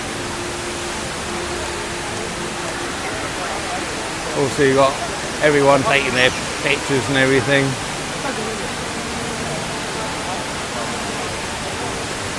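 Small indoor waterfall at Jewel in Singapore splashes as a steady, broad rushing wash throughout, with a nearby voice talking over it in the middle stretch.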